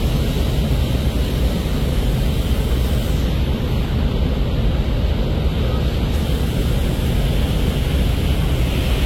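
Aboard the Parabat 18, a passenger river launch under way on a river, a dense low engine rumble blends with rushing water and wind in a constant, loud roar.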